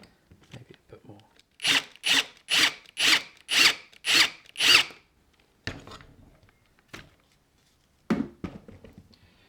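Seven rhythmic short bursts of a drill boring a countersink into pallet wood, close and loud, followed by a few scattered clicks and knocks of handling.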